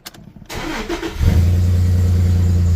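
A 1995 Dodge Dakota pickup's 3.9 engine with aftermarket headers cranks for about a second, then catches and settles into a loud, steady, rumbling idle.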